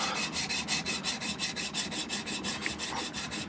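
A chisel is sharpened by hand, scraping back and forth with steady even pressure in fast, regular strokes of about six per second, close and dry-sounding.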